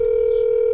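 A steady telephone tone sounds while a call is placed, one continuous loud sustained pitch with no voices, cutting off abruptly at the end.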